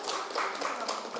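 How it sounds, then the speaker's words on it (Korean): An audience at a gallery artist talk claps briefly, a soft, dense patter of many hands heard faintly at a distance. "저희 박수 한번 쳐주세요"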